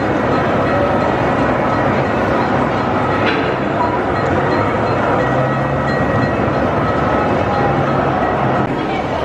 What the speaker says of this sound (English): you can see the L train coming out of the big city here